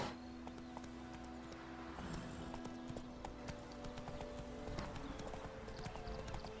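A horse's hooves clip-clop steadily on the ground in The Witcher 3, with rain falling, a soft game music drone beneath, and a brief whinny.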